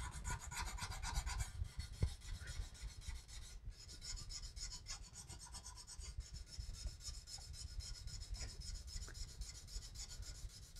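Sandpaper rubbing over a wood carving in steady, rapid back-and-forth strokes, a close, soft, continuous rasp with no talking.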